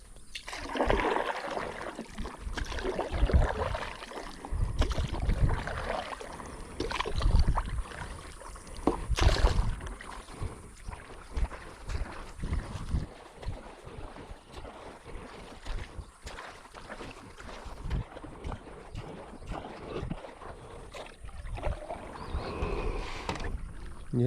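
A canoe or kayak is paddled along a wide waterway with little beaches, repeated soft paddle splashes and dribbling water over light wind noise, close and continuous for over twenty seconds.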